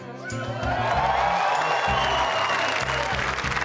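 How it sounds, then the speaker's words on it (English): A live television final's studio audience erupts in loud sustained applause and cheering, a thick wash of clapping and whoops filling the space with music pulsing underneath. "We got a big crowd here tonight"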